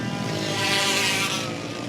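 Two-stroke racing kart engines scream past on a track in a continuous, loud, buzzing whine that swells and fades slightly. Wind rumbles against the microphone and there is no talking.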